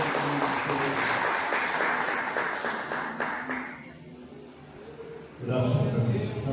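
Church congregation applauding at a worship service, a dense sustained wash of clapping that fades midway and then swells back up loudly near the end.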